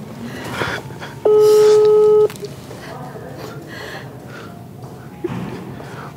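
A telephone tone while placing a call: one sustained, clearly pitched tone lasting about a second that stands out above nearby talking, with people speaking before and after it.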